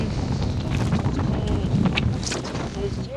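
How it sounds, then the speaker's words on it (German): Strong wind buffets the microphone in heavy, rumbling gusts at 7,500 metres on Mount Everest, with faint speech partly lost beneath the roar. "Es ist windig und kalt."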